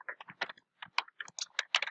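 Quick, light clicks on a computer mouse while choosing an email theme, a loose run of short dry taps, close and fairly quiet, with no talk over them.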